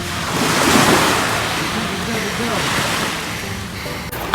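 Ocean surf along the Davao Oriental coast, a broad rushing wash of waves with wind buffeting the microphone, steady and loud, with voices faintly mixed in.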